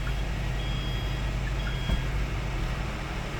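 A 2024 Porter 2 LPG truck fitted with a smart-key remote starter alarm sounds its reversing warning, a thin steady high beep over a low idling engine hum, moderately close and without talk.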